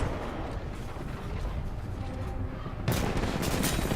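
Pistol fire in the shooter game Titanfall 2: a dense, rapid volley of gunshots over a noisy battlefield, growing sharper and louder for the last second.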